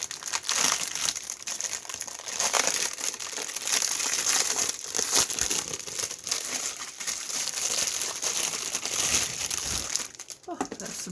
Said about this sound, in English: Oh, that's some crinkly paper.